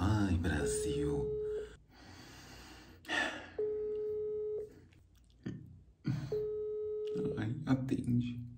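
A telephone ringback tone repeats three times in steady, evenly spaced bursts, each about a second long, as a call waits to be answered. Someone talks and sighs between and over the rings.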